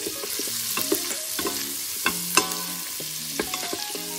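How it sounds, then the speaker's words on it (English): Chopped garlic sizzling in melted butter, a soft continuous crackle with scattered spoon clinks and scrapes against the pot as it is stirred, close up and without voices. "You can hear that sizzle, and the butter is melted."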